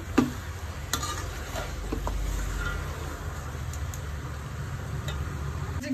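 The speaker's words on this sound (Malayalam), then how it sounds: "നന്നായിട്ടൊന്ന് ഇളക്കി യോജിപ്പിക്കാം." Beef fry with coconut oil and curry leaves is stirred in a pan, giving a low steady sizzle broken by a few sharp spatula scrapes and clicks.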